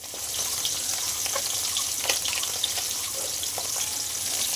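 Pieces of rui fish fry in hot oil for a curry, a steady bright sizzle with crackling pops, close and continuous with no talking.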